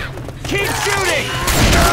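Dense gunfire from the zombie shooter Left 4 Dead on The Parish campaign, a loud continuous fusillade of rapid shots with booming bursts, heard under overlapping shouting voices of players throughout.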